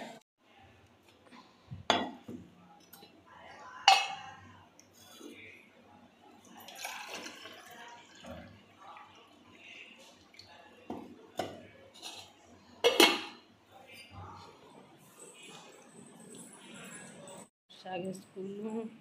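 Dishes, pots and utensils being washed with water in a village home, with clinks and clatter of metal vessels, splashes and running water at close range, with intermittent voices.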